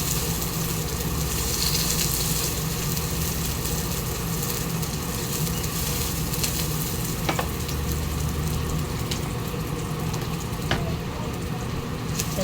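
Eggplant fries in a small amount of oil, giving a steady, even sizzle at close range with a few faint clinks.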